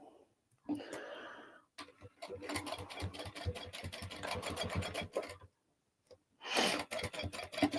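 A sewing machine stitches a hem on a crossbody bag in quick rapid bursts of clattering, close and fairly loud, with short pauses and a brief voice near the start.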